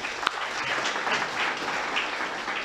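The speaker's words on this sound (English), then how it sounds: "So give ourselves a big round of applause together." A room full of forum participants in a provincial health department hall gives a round of applause, a steady, moderately loud wash of many hands clapping together.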